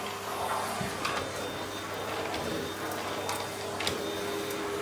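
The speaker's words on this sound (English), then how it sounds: "Sorry, pups, I need to vacuum." A household vacuum cleaner runs with a continuous, steady motor drone and broadband whoosh, close and constant throughout, with faint bumps as it moves.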